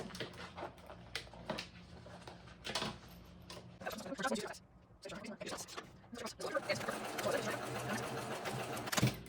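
A sewing machine basting over a backpack seam runs in bursts of rapid mechanical stitching, close and fairly quiet, with a person talking intermittently over it.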